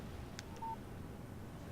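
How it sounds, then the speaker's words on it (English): A brief, faint electronic phone alert chirps once in the Alan Wake game, a short click followed by a thin tonal beep, over a low steady background hum. "Text message from Barry."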